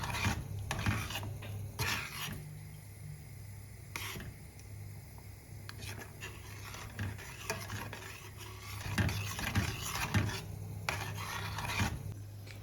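Homemade baked beans being stirred and cooked in a pan, with scraping and clinking of a utensil against the pan in irregular bursts, close and moderately loud, with no talking.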